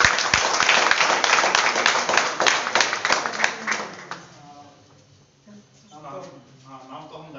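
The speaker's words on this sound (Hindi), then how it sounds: "एक बार तालियों में।" Audience applause at a parents' meeting programme, a loud patter of many hands clapping that fades out midway, followed by quieter room sound and a voice speaking.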